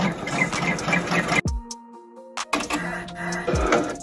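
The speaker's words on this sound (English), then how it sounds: "Now it's time for the placement stitch for the last letter on this circle round applique." An embroidery machine sews a placement stitch for an appliqué letter on a hoodie, with rapid, busy mechanical stitching that pauses for about a second, leaving a faint tone, then starts again just as fast.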